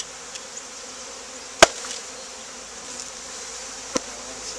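Honey bees hum in a low, steady drone while a package of bees is installed into a hive, with a couple of sharp clicks or knocks breaking through the continuous buzz.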